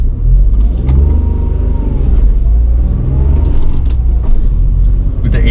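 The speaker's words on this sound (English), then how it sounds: "the vehicle is in stop and engaging into first gear and driving it" A Tata Tiago BS6 2021 hatchback pulls away uphill in first gear, its engine note a steady close rumble that rises gently as it gains speed, with some voice-like murmur underneath.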